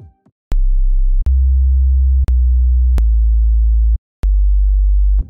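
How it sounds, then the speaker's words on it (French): A pure sine-wave sub bass from the Sytrus synth in FL Studio plays as a series of loud, sustained low notes separated by sharp clicks, each note holding a different pitch, with no voice. "Et là on a une onde sinusoïdale, ça nous donne ceci."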